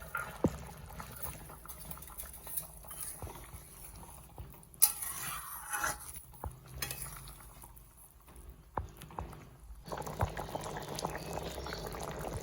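A pot of tilapia and taro fish curry bubbles and simmers steadily, soft liquid blips and pops close by, with a few faint clinks and stirring sounds.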